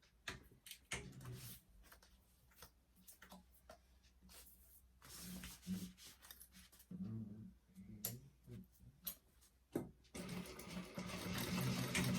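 A sewing machine stitches a bag seam at a 3/8 inch allowance in short, stop-start bursts of faint whirring. Soft handling rustles fall between the bursts, and a longer steady run of stitching comes at the end.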